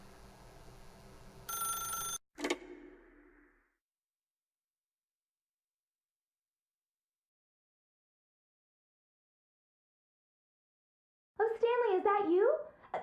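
A telephone rings once in The Stanley Parable, a short bright electronic trill near the start, followed by a long silence and then a voice speaking.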